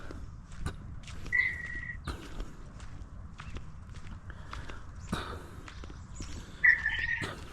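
Footsteps crunch along during a cold morning walk, with two brief, clear bird chirps heard a few seconds apart, small and somewhat distant, against a low outdoor background.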